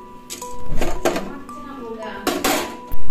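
Whole garam masala spices dry-roasted without oil in a hot kadai, with a spatula clanking and scraping against the metal in irregular bursts while a voice talks nearby.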